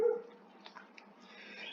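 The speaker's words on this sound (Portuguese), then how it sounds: "Não liguem aí para o barulho que esse cachorro está fazendo" A dog barks and yips faintly in the distance, a few short scattered calls over a quiet room background.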